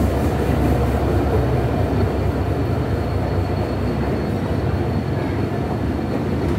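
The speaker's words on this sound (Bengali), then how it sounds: "আপনারা দেখতে পাচ্ছেন একতা এক্সপ্রেস বঙ্গবন্ধু সেতু পশ্চিম স্টেশন অতিক্রম করছে।" The Ekota Express, bound from Dhaka to Panchagarh, roars past Bangabandhu Bridge West station without stopping, a loud continuous rumble of wheels and carriages close by throughout.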